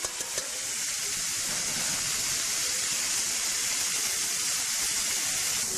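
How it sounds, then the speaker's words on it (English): Onions and garlic frying in a little oil in a pan still holding fish residue, a steady close hiss and sizzle that runs unbroken and fairly loud throughout with no voices. "with the residue and the pan from the fish, I put a little bit of oil and I fry the onions and the garlic now until they brown"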